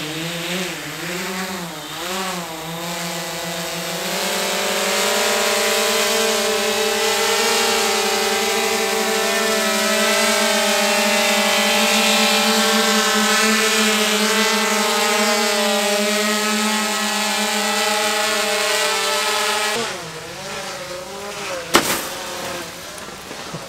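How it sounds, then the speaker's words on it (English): A Swellpro Splash Drone 4 quadcopter carrying a water balloon flies close by with a loud, steady propeller whine and buzz that shifts slightly in pitch, then cuts off near the end, followed by a sharp knock. "here we got the drone hooked up to a water balloon"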